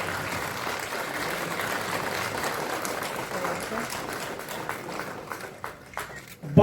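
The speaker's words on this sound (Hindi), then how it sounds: "एक बार तालियां बजती रहे।" A crowd at a school re-enrollment campaign launch in Dhanbad gives sustained applause, a dense, even wash of clapping that thins and fades toward the end.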